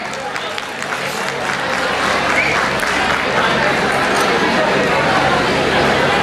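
An audience at a college techno-cultural festival applauds loudly and continuously, a dense wash of clapping mixed with crowd chatter that swells and holds for several seconds.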